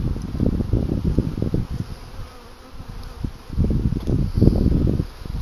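Close honey bee buzzing at an opened hive in late winter comes in fluttering waves, loud at first, dipping briefly in the middle, then surging again.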